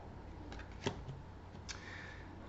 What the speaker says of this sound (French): J'ai déjà fait la coupe en 3, donc je n'ai plus qu'à prendre les cartes